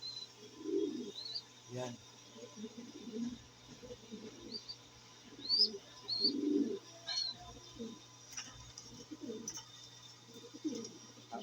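Pigeons in a fancier's loft at morning feeding time give soft, low cooing phrases in repeated bursts, with faint chirps overhead and a brief spoken word.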